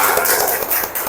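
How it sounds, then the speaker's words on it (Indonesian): A classroom of students clapping together in a dense, continuous round of applause, close and fairly loud, with a few sharper individual claps standing out. "Tepuk buat kalian semua."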